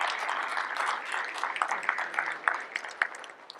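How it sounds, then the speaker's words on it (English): Moderate applause from a university audience at a State of the University address, a steady patter of clapping that thins and tapers off toward the end. "Let's give a round of applause for that."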